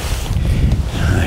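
Wind buffeting a microphone beside a fishing lake, a loud low rumble and gusty roar that stays close and steady throughout.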